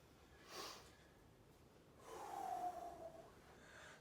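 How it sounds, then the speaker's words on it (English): A person breathes heavily after a set of push-ups, with a short sharp inhale followed by a longer, rough exhale, faint and close with no talking. "I catch that breath, I'm breathing a little heavy."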